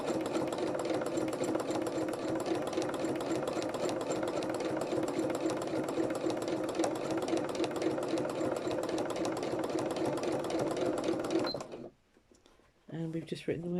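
A sewing machine set up for free motion embroidery runs in a steady, fast, buzzing chatter for about eleven seconds. It then stops abruptly, and faint handling sounds follow.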